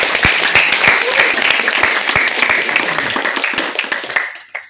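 Loud, close applause from a crowd at a store farewell gathering, dense clapping with sharp individual claps standing out, continuing steadily before tapering off and ending abruptly.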